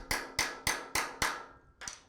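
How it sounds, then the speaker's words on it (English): Sharp metal hammer blows driving a socket extractor onto a rounded exhaust stud, six evenly spaced strikes in quick succession with ringing decay, close and loud, with no talking. "So let's go ahead and hammer this on."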